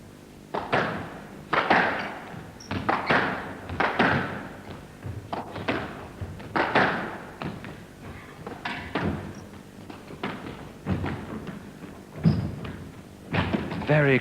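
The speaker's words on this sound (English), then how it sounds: "Very close drop shots at the front, but Opie unable to get that one" Squash balls striking racquets and walls during the 1984 British Open women's final at Wembley Conference Centre give a run of irregular sharp thuds and taps, with a commentator talking over the rally throughout.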